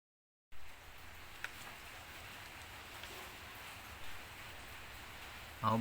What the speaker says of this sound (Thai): เสียงฝนก็ปล่อยๆ นะครับทั้งวัน